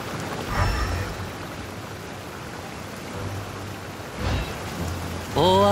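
Heavy rain in the video game Genshin Impact, a steady dense hiss of falling rain that goes on throughout, with a low rumble swelling briefly near the start and again after four seconds, and a short tonal sound at the very end.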